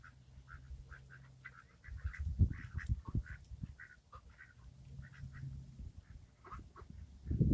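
A duck at a park pond in Hurst, Texas quacks repeatedly in quick, irregular bursts at moderate distance, with low rumbling handling noise underneath.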